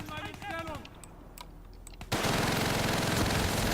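Rapid, loud MG42 machine gun fire from Call of Duty: Black Ops III bursts in suddenly after a stretch of quieter game sounds and scattered clicks, then continues as a dense, sustained roar of shots to the end.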